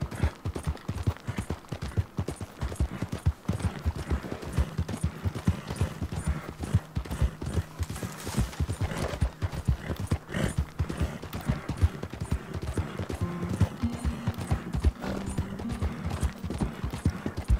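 Horse hooves clip-clop in a steady, rapid rhythm as a horse moves along in the video game Red Dead Redemption 2, close and continuous, with a brief whinny partway through.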